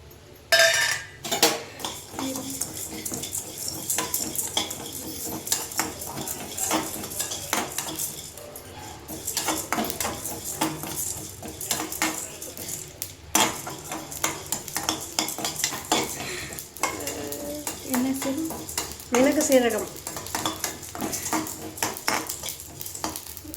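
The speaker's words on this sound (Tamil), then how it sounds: "இப்போ மிளகும் சீரகமும் சேர்த்து வறுத்துக்கலாம்" Black pepper and cumin dry roasting in a pan: repeated metal spoon scrapes, clinks and rattles of spices against the pan, busy and close throughout, with a faint sizzle and no talk.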